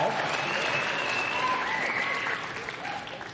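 A large crowd applauds steadily at a Fox News event, a dense, continuous wash of clapping that eases slightly toward the end, with faint voices mixed in.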